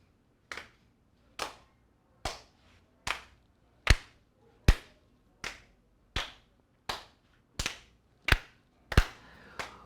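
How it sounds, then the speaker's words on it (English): A group claps hands together in unison at a poetry event: about twelve sharp, evenly spaced claps roughly one per second, loud and close, with nothing else heard between them. "So, clap with me."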